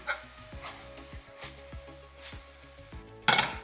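Fried eggplant is tossed in a pan with garlic, ginger, soy sauce and tomato ketchup, giving a soft sizzle broken by repeated scraping of a spatula against the pan and a brief louder clatter at the end.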